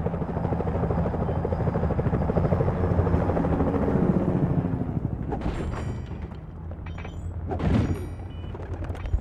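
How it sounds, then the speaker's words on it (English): Security helicopters in the video game Sly Cooper: Thieves in Time give off a loud, steady rotor drone that fades slightly. Brief crackling bursts come in near the end. "Those security choppers are bad news."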